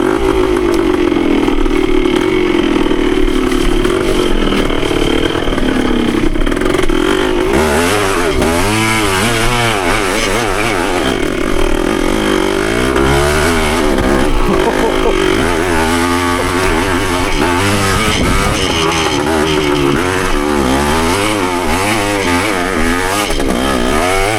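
A Yamaha CT3 175 motorcycle being ridden in second gear, its small engine droning loudly and rising and falling in pitch as the throttle changes, with steady wind noise throughout.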